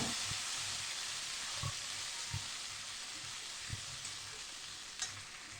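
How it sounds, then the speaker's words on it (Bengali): Ground spice paste, loosened with a little water, fries in a pan for a fish-head and green jackfruit curry, making a soft continuous sizzle under a few evenly spaced stirring knocks. "মশলাটাকে ভালো করে কষাবো"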